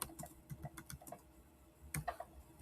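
Typing on a computer keyboard, with short bursts of quiet keystrokes coming in irregular runs and a slightly louder cluster near the end, close up with no talking.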